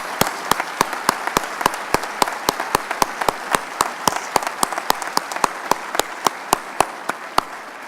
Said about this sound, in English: I just ask you to join me in a round of applause.